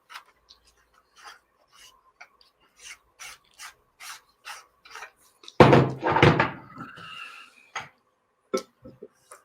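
Close-up handling of NOVOFLEX macro reversing ring camera gear as it is taken apart: soft scattered rubs and small clicks, then a louder burst of metal-on-metal scraping and rattling in the middle, quiet between sounds.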